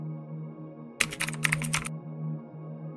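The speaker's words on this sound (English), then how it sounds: "I typed a single line." A short, quick burst of keystrokes on a computer keyboard, close and crisp, set against a quiet room hum with silence before and after.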